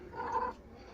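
A single short, soft meow from a nearby cat over low room noise.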